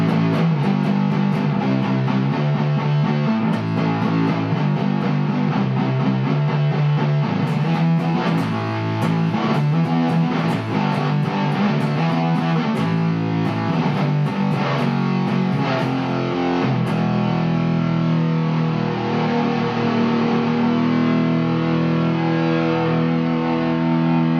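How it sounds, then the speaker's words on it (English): Heavily distorted electric guitar played through a modded Boss DS-1 distortion pedal at maximum distortion, continuously and loud, thick saturated chords with a buzzing, compressed tone throughout. "So we are max on the distortion now."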